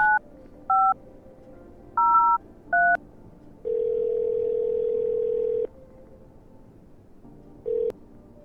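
A phone in a horror video game dials out with several short two-tone keypad beeps, followed by a sustained steady ringback tone and one more brief tone, clean and close with no talking.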